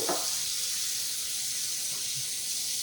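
Warm water runs steadily from a kitchen tap while making sourdough bread dough, a continuous close hiss of flowing water with faint clunks, no talking.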